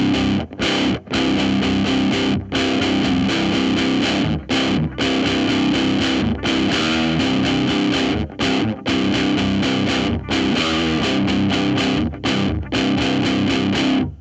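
A distorted electric guitar plays through an open-back amplifier, picked up by a microphone in front of the speaker; it is loud and continuous, with chords broken by brief pauses.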